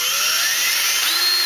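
Ryobi One+ cordless drill spinning freely under its variable speed trigger, a loud, close, continuous high whine whose pitch shifts slightly as the trigger is worked, with no talking.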